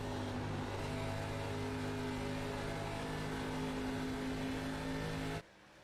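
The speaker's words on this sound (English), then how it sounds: "That's what I love about these race cars here on the sim with the ARCA car." An ARCA stock car in the iRacing sim drones at high revs around Atlanta, a steady sustained engine note at moderate level that cuts off abruptly near the end.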